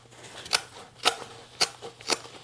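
Scissors snip through denim from old jeans during tote bag sewing, four crisp close cuts spaced about half a second apart, alone with no talking.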